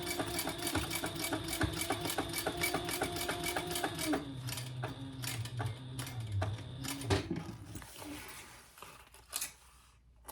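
Sewing machine topstitching an outer fabric and its lining held wrong sides together: a steady, rapid mechanical stitching rattle for about eight seconds, then a few slower stitches before it stops and goes quiet.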